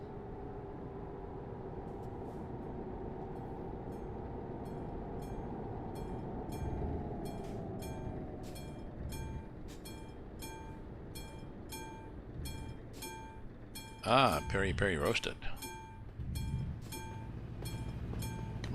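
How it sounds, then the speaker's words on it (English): A train rumbles past in Euro Truck Simulator 2 on a route out of Murmansk, a steady low roar with rhythmic wheel clatter, and a voice speaks briefly near the end. "Oop, perhaps a train."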